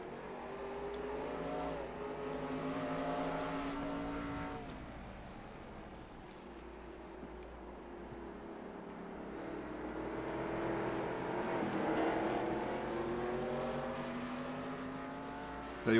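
Race cars in a Top Flight Computer National Series event at Stafford in 2020, worn cars lapping late in the race, engines droning and revving continuously as packs pass by, swelling and fading at moderate distance without talk.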